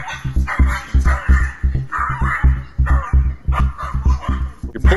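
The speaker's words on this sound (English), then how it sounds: "He barks at other dogs?" A small Yorkshire terrier barks at other dogs in a rapid, insistent series of sharp yaps and low growls, loud and close, with no speech over the barking.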